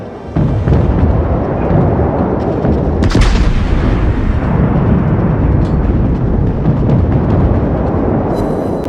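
Naval guns firing in the World of Warships video game, a dense continuous barrage of booming artillery blasts that rolls on loudly for the whole stretch, with a sharper crack near the middle.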